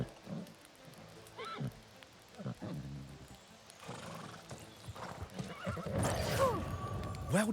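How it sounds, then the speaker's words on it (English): A horse in the video game New World: Aeternum whinnies loudly near the end, after a stretch of clopping hooves and softer snorts, with no one speaking. "Equip the victuals and mount your horse."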